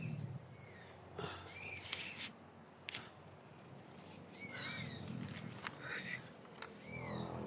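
Birds chirp and call intermittently outdoors, with quiet background noise and occasional faint rustling between the calls.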